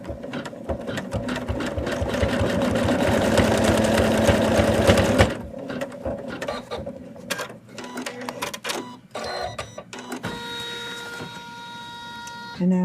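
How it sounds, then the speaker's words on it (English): An in-the-hoop embroidery machine stitches the leg of a Santa doll, a steady rapid mechanical chatter for about five seconds, then stopping into short intermittent bursts and quieter whirring with a few beeps. "And just place the leg and stitch it."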